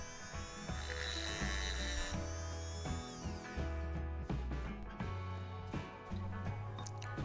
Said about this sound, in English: just using the Dremel cutting disc just to take a little bit off the clamps